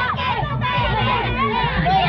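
A crowd, children among them, cheers and shouts continuously at a greased-pole climbing contest held for an Indonesian Independence Day village celebration. The excited voices overlap in a steady, loud, close hubbub.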